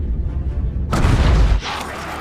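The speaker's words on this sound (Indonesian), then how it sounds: "Tiba-tiba terjadi ledakan di kapal Rusia." A Russian submarine explodes in the film Hunter Killer: a sudden loud, roaring burst cuts through a low rumbling drone, holds for under a second, then drops back to a quieter ringing hum.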